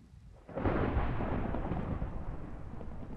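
A thunderclap hits during a storm in the video game nullMachina, arriving suddenly after a brief quiet and then rumbling on loud and broad for several seconds without fading, with no voices.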